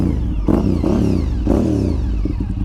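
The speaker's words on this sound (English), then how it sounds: "We'll blip a throttle." A Honda RC51 SP2 motorcycle engine, hot after a ride, runs loud and close while the throttle is blipped in a few quick surges over a steady idle.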